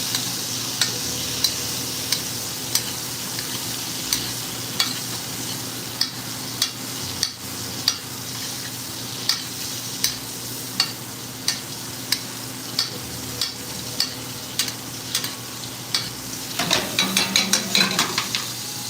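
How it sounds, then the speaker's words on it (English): Meat sizzles steadily in a pan while being basted, with regular light clinks of a spoon against the pan every second or so and a brief louder clatter near the end. "Every 30 seconds, you're gonna baste it."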